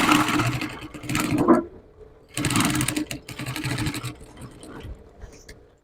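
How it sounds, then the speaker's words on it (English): Sewing machine stitching a corset cup seam, with two close, steady whirring bursts of stitching separated by a pause, then quiet handling. "I'm going to stitch it down now"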